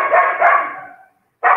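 Female dogs bark indoors in two loud, close bursts: a quick double bark that trails off, a short silence, then another bark at the end.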